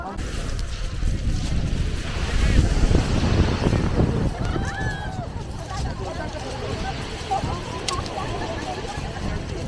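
Ocean waves wash and surge near Needles Point on the Isle of Wight under gusts of wind buffeting the microphone, with a brief tonal chirp partway through.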